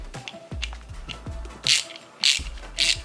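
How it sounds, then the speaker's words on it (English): A 3/16 Allen socket on a ratchet clicks in short runs as it tightens a fog light nut for a 2021 Bronco modular bumper install, with a few brighter metallic clacks between strokes, close and alone. "we're going to go ahead and tighten this up. It's a 3/16 Allen socket and a 7/16 open"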